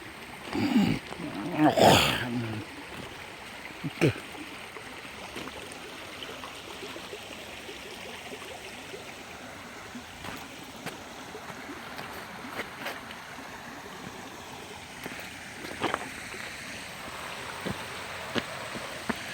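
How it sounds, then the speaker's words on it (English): Water flows steadily in a small stream along the Orange Trail in Twin Creek MetroPark, a soft continuous rush, with a brief voice and occasional knocks and footsteps. "Good to see some water back in these streams again"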